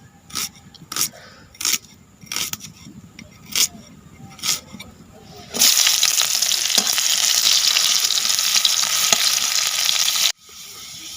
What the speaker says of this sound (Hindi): तेल आ टिके ढाली देले। आ पियाज पकेइबा।